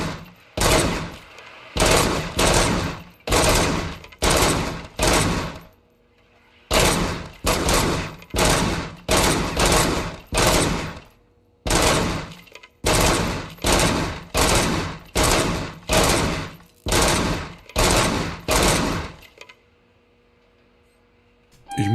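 Rapid sustained gunfire in the Robocop Rogue City game, long bursts of loud close shots in rhythmic volleys separated by brief pauses, continuing without reload breaks before fading to quiet.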